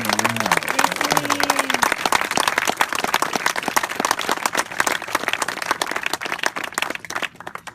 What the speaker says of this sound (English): Let's hear a really nice loud round of applause for Celine Molina